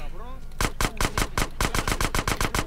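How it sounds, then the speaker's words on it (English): Gunfire in a GTA San Andreas gang war: after a brief voice, loud rapid gunshots crack in a steady, evenly spaced string of close bursts. "There we go. A gang war."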